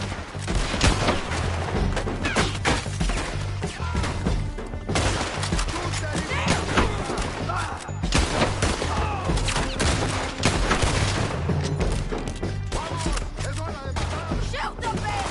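A dense video game shootout fills the air with continuous overlapping gunfire and rapid bursts, loud and close throughout, with no break in the shooting.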